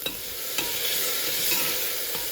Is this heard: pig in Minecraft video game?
no